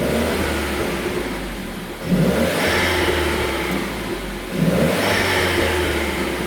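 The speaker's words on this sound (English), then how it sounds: "Just give it a little rev, is it?" A car engine in sport mode with an ITG induction kit revs up twice, roaring louder each time before dropping back to a rumbling idle, close and loud.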